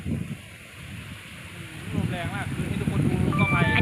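Strong wind blows behind a small garden house, a rough, steady rumble buffeting the microphone that grows louder toward the end, with a voice speaking over it.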